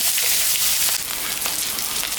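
Onion frying in hot oil with black cumin and dried chilli for a rohu fish curry, a dense, loud, continuous crackling sizzle heard close up.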